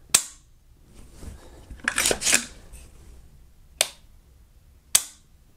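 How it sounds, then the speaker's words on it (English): A PSA custom match grade single-stage trigger, 3.5 lb, dry-fired: a sharp snap near the start and two more crisp clicks later, separated by quiet handling and a brief rustle, close and isolated. "excellent, smooth trigger pull there"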